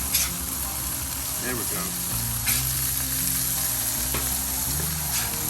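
Hamburger patties sizzle steadily on a hot grill for a bourbon burger, a continuous close frying hiss with faint scraping as they are flipped, and someone speaks briefly over it.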